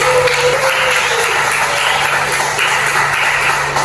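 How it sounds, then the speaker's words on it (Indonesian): Students in a classroom give sustained applause, a dense continuous patter of clapping at fairly loud level, with a faint steady hum beneath it. "kita berikan tepuk tangan"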